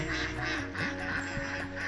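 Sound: ducks quacking on a duck farm

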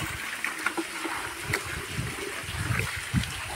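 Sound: water being poured into a pump sprayer

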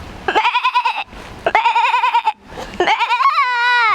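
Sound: imitated goat bleat

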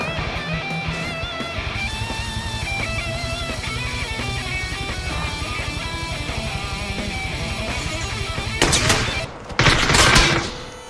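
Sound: gunfire in a video game

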